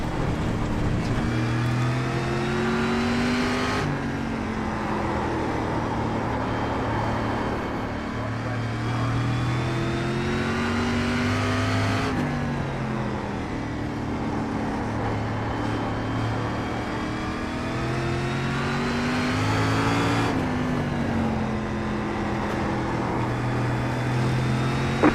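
Race car engines in the sim racing game iRacing drone and rev continuously, with repeated upshifts and downshifts marking a lap cycle and other cars close alongside.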